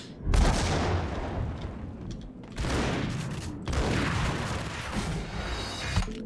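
A grenade explodes in the shooter game Max Payne: heavy booming blasts with rumbling, crashing tails, several loud bursts one after another, close and without speech.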